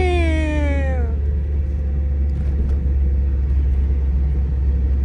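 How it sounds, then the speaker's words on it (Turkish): A car engine and drivetrain hum with a low, steady rumble inside the cabin, with differential noise while driving, opening with a brief descending whine that fades after a second. "Nasıl diferansiyel ses arkadaşlar?"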